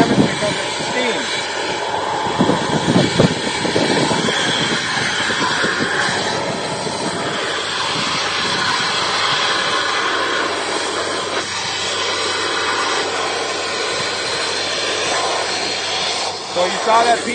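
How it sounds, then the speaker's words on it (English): A steamer blasts steam directly onto an ice dam and shingles on a roof, a loud continuous broadband hiss and roar that runs steadily throughout with slight surges, and a voice talks faintly underneath. "we can put the steam right down on the ice, direct it right at the shingle"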